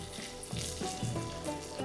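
Garlic cloves and onion sizzle steadily in a hot pan while meat is being cooked, a dense continuous frying hiss close by with no one speaking.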